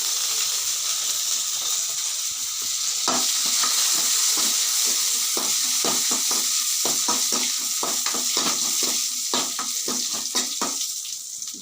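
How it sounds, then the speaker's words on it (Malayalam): Mustard seeds, dried red chilies and curry leaves sizzle in hot oil, a steady close hiss studded with quick, irregular pops and crackles that thicken midway, alongside occasional stirring scrapes. "കടുക് പൊട്ടി ഇതാ വറ്റൽമുളക് ഇട്ട് കരിവേപ്പില ഇട്ടു"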